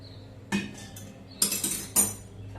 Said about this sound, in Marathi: आणि चमच्याने पीठ चांगलं मिसळून घ्यायचं.